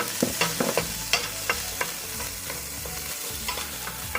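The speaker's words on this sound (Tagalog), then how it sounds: "Ngayon na init na, maglagay na tayo ng ating onion." Onion sautés in a hot pan with a steady sizzle, punctuated by repeated scraping and tapping strokes of a utensil stirring it, close and clear with no talking.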